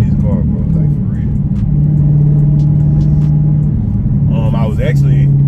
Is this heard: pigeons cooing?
no